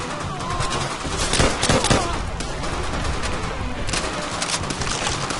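Japanese machine gun fire in a World War II battle in Call of Duty: World at War, with rapid, dense bursts of automatic fire rattling on without a break over loud battlefield noise.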